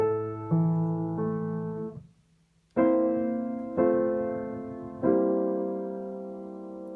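Piano plays a short passage from Beethoven's Für Elise of sustained chords and notes, each decaying slowly, with a brief pause after the opening phrase.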